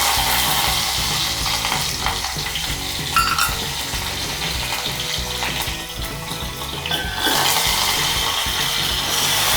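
Curry leaves, dried red chillies and small onions fry in a hot tempering for tomato rasam, giving a dense, continuous crackling sizzle that swells and dips without pause.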